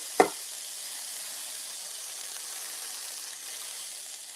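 Food browning in a skillet turned down to medium-low, a soft continuous hiss and sizzle held steady at low level after one sharp knock at the start, with no talking.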